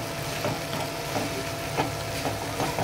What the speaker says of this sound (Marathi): अशी भाजी फ्राय करायची आहे तेलामध्ये।